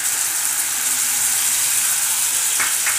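Tomato paste, made from three tomatoes, goes into sautéed onions in a hot pan for brinjal thokku, raising a steady, fairly loud sizzle and hiss that runs throughout, with a couple of brief sharper crackles near the end.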